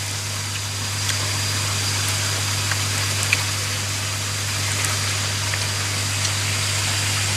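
Waterfall in a forest flowing steadily, a constant soft rushing wash that stays even and moderately distant throughout, with a low steady hum underneath and no talk.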